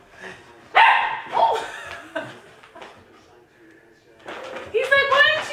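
A puppy barks and yips in short bursts while running around near a baby, mixed with people talking and chuckling close by.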